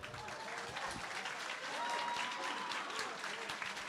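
An audience at a journalism awards ceremony in Exeter bursts into sustained applause, a steady wash of many hands clapping that keeps going for several seconds, fairly close, with a faint voice underneath.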